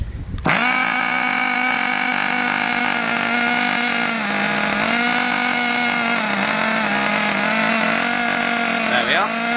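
A Hyper 12 mini ST small engine catches on a single pull from cold, then holds a loud, steady buzzing idle close by with a slight dip and rise in pitch near the end.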